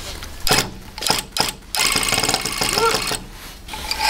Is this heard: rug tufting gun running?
yes